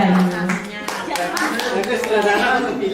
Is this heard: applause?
yes